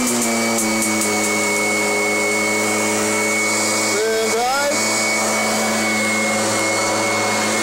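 A Kirby vacuum cleaner runs steadily and loudly with a droning motor whine and strong tonal hum, its pitch briefly dipping and rising midway before settling again.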